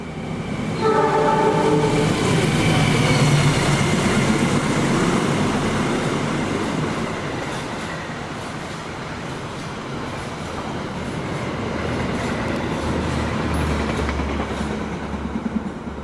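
A regular passenger train rushes past a waiting extra executive-class train on an Indonesian railway, a loud continuous rumble and rattle of wheels with a brief horn tone early on, sustained throughout.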